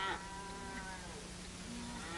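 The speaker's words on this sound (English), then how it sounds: "let's get those cattle back before we lose some more of them" Cattle lowing in an old 1930s Western film soundtrack, a drawn-out moo starting the clip with further low bovine calls and herd noise continuing steadily at moderate distance, no talking.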